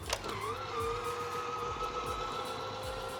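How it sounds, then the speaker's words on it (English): A Minn Kota Ulterra trolling motor stowing itself after one button press, heard as a steady electric motor whine that rises briefly in pitch and then holds an even hum, with a faint low thud at the start. "To stow the motor, simply press the center button once."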